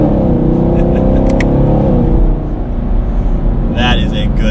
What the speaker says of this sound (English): That V8 sounds so good.